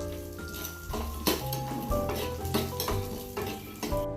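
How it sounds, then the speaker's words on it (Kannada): Cashews frying in ghee in a pan, a steady close sizzle with frequent stirring clinks of a spoon against the pan, no talking. "ಗೋಡಂಬಿ ಹಾಕೋಣ. ಸ್ವಲ್ಪ ಚೆನ್ನಾಗಿ ಫ್ರೈ ಆಗಲಿ."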